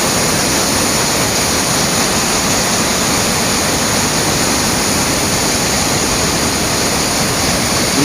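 A loud, steady roar of falling water from Jog Falls in Karnataka fills the whole stretch, a dense unbroken rush without pauses or voices.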